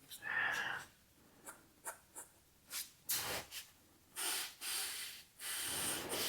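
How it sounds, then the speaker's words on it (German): A pencil sketching stair steps on paper, quiet scratchy strokes arriving in short, uneven bursts, heard close, with breathing between them and no talking. "jetzt zeichne ich schon die ersten Stufen hier ein."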